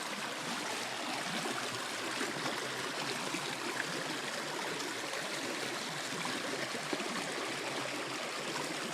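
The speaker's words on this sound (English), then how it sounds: "There's some more rapids over there" White-water river rapids rush around rocks in a steady, full broadband roar, close and constant with no talking.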